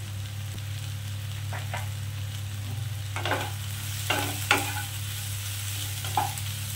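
Prawns coated in poppy seed paste with turmeric and chili powder fry in a pan over a low steady hum, with several brief scraping stirs and spatters standing out close by; no voice is heard.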